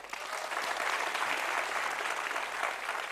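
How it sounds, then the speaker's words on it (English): Applause from an audience honouring a writer, a dense, even wash of clapping that keeps going at steady strength from start to finish. "I want you to all give him a round of applause whenever I pause"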